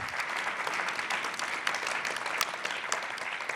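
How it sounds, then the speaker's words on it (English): An audience at a city State of the City event applauds a panel, producing steady, dense clapping from a crowd that holds evenly through the whole stretch with no talking. "one more round of applause for our panel"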